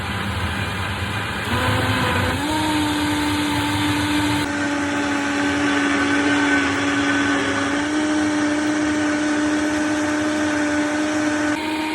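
A Vitamix blender runs loud and steady at high speed, its motor pitch rising and settling as the speed is turned up, with no voices over the whirring.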